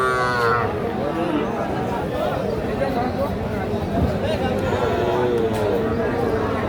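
Cattle moo loudly at the start at a livestock market selling young bulls and heifer calves, followed by a continuous background of crowd chatter and hubbub.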